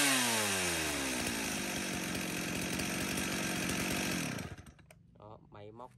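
A Stihl 024 chainsaw, a 42cc model in original condition, runs loud and close at high revs, then drops sharply to a rough idle near the end.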